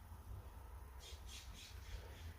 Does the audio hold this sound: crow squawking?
yes